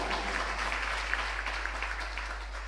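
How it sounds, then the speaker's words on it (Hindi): An audience at a religious training camp in Bhopal breaks into steady, sustained applause, a dense, even wash of clapping with no talk over it, heard against a low electrical hum. "जोरदार तालियां"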